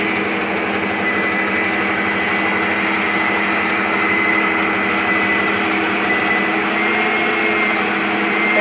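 An electric mixer beats cupcake batter for Boston cream pie style cupcakes, a steady loud motor whir with a high-pitched hum, constant and close with no speech.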